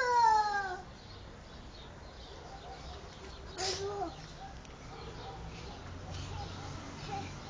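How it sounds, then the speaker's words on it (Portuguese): A cat lets out a clear, close meow right at the start, then things drop to a faint, quiet indoor background with soft voices and small noises. "Vem, tem gato aí"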